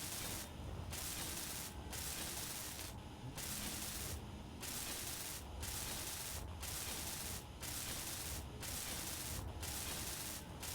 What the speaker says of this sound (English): it's not the most exciting thing to watch me welding this over and over again